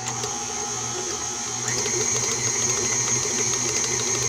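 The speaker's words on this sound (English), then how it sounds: "Put them both in the mixer. Just turn the mixer on." Electric stand mixer running at medium-high speed beating marshmallow cream and cream cheese icing, a steady loud motor whine with a slight jump in pitch partway through and no talking.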